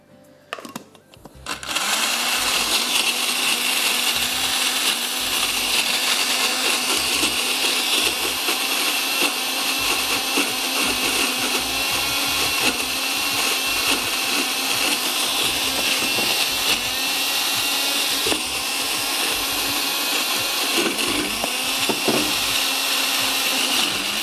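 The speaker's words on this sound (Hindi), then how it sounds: "तब आप फिर उसमें उसको ठंडा करके फिर ब्लेंड करिएगा।" Electric blender grinds toasted desiccated coconut into a thick paste, a loud steady whirring drone that starts abruptly after a brief pause and runs on unbroken.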